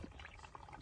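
Spring water pours and trickles into bottles at a small trailside spring on the Appalachian Trail, a brief, quiet splashing gurgle close by.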